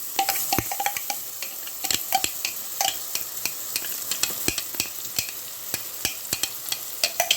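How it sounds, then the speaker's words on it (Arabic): Minced onions frying in hot oil for Egyptian koshari, a steady crackling sizzle with frequent sharp pops and spatters, close and continuous, interrupted by occasional stirring clicks. "وهنبدأ نحمر البصل معانا كده"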